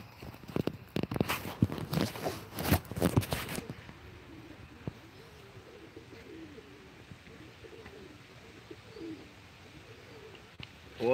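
Pigeons coo softly in a low, rolling murmur, with some louder rustling and bumping at the start before the cooing continues steadily alone.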